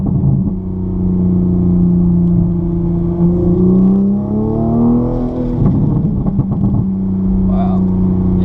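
The engine of a tuned 2020 Toyota GR Supra with 416 hp drones and rises under throttle from inside the car, its exhaust rumbling and pitch climbing, then easing off, with people talking over it.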